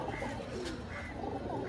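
Eye pigeons at a pigeon shop give soft, low cooing, faint and continuous against quiet background noise, with no one speaking.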